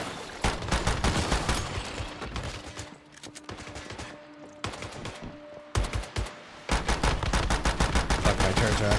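Video-game turrets fire in rapid, sustained bursts, a loud clattering barrage that eases briefly mid-way with a tonal hum before the heavy firing resumes.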